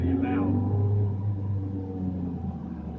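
Ferrari 360 Challenge Stradale with its 3.6 litre V8 rumbling loudly inside the cabin, a steady low drone with a brief rising rev near the start, easing slightly as it continues.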